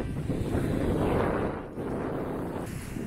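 Strong wind buffeting the microphone on the raw, open Danish west coast, a loud continuous roar that dips briefly midway before surging again.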